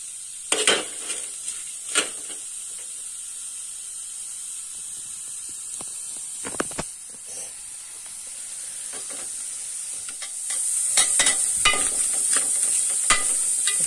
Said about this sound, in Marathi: कांदा थोडं भाजून घ्यायचं, मग तेल टाकायचं नाही का.